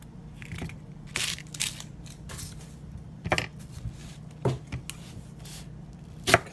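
Papery onion skin is peeled back from a halved onion with its ends cut off, giving scattered dry crackles and crunchy rustles at irregular intervals, close and quiet over a faint background hum.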